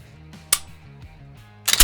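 Walther PPQ pistol with a quick-reset trigger, in a concealed carry setting: a sharp single click near the middle, then a louder cluster of metallic clicks at the end over a low background hum.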